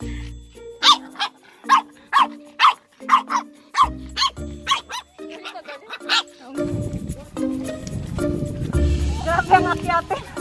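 Several shih tzu dogs bark in a quick, repeated series of sharp yelps up close, followed by a rumbling stretch with voices talking over it.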